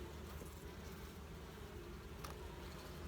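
Honeybees in a hive with a honey super, making a steady, dense buzz that fills the space evenly at low volume and close range.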